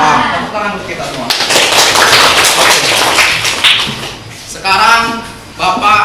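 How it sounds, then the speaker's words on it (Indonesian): A classroom of students breaks into applause, a dense burst of clapping that swells for a few seconds and then fades, with a teacher's voice speaking before and after it. "Tepuk tangan untuk kita semua."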